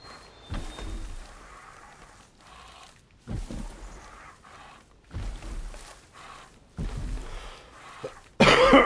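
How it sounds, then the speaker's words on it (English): A person coughs in several separate bursts, close and fairly loud, with quiet room pauses between them and a sharper, louder noise at the very end. "my cough's still not fully gone"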